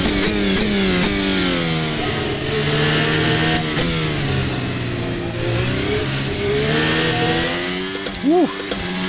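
Formula Hybrid 2023 racing car engine in a sim, a loud continuous high-pitched rev that rises and falls with gear changes and throttle, steady and close throughout.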